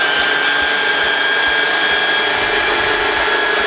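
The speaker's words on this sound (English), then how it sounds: "this blender is legitimately about 20 years old, so the fact that it's still working is kind of a testament to its power" A roughly 20-year-old Braun blender whirs steadily as it purees curry sauce for katsu curry, giving a loud, constant high-pitched motor drone with no pauses.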